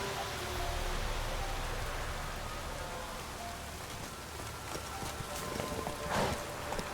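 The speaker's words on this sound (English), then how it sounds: "Horse! Where are you, horse?" Hooves of a horse galloping in The Witcher 3 make a steady clip-clop over a dense bed of rain and ambient noise, moderately loud throughout with a brief louder burst near the end.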